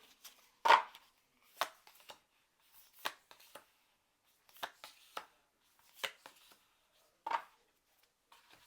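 Citadel Oracle cards being shuffled by hand, a series of short crisp riffles and slaps spaced about a second apart, close and fairly quiet with no talking.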